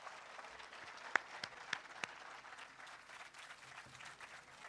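Faint, distant applause from an audience in Gilgit-Baltistan welcoming Prime Minister Shehbaz Sharif, a soft wash of clapping with a few sharper individual claps near the start.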